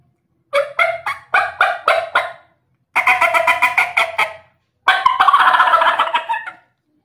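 Diaphragm turkey call yelping in imitation of a wild turkey: three clear bursts of sharp, rhythmic yelps, the first with separate spaced notes and the later two faster runs, loud and close with silence between.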